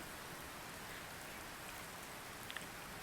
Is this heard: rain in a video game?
yes